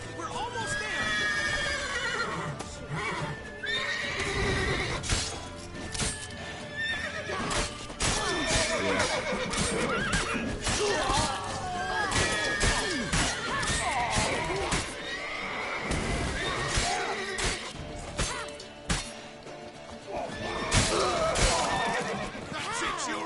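Horse in The Witcher 3 video game neighing and whinnying repeatedly amid hoofbeats, loud and close, layered over a busy mix of game action and voices talking throughout.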